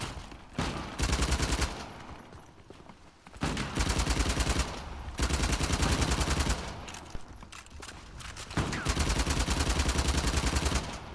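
Dense gunfire in the video game Uncharted: The Lost Legacy, loud sustained bursts of automatic fire and rapid shots over about eleven seconds, with brief gaps between volleys.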